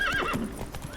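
Roach the horse in The Witcher 3 whinnying with a rising, wavering neigh, then brief hoof clops as it sets off, close and clear.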